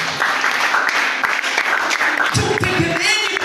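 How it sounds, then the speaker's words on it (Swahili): Church congregation clapping together in praise of Jesus, a steady loud wash of applause with a few louder claps and voices toward the end. "Tumpigie Yesu makofi"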